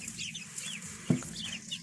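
Faint chickens clucking and chirping softly in the background, with one brief thump partway through.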